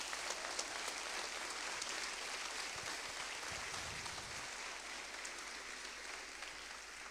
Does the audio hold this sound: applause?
yes